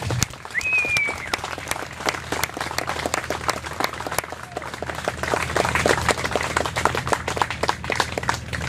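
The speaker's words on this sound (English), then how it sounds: "Have a round of applause for our veterans here tonight." Sustained crowd applause with dense clapping and a few whistles, steady and loud across the whole stretch, honoring military veterans at a Memorial Day celebration hosted with a car club.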